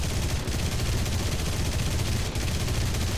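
Sustained, dense aircraft machine gun fire in War Thunder during a realistic dogfight, a fast unbroken rattle of close, loud rounds lasting the full few seconds with only a brief hitch midway.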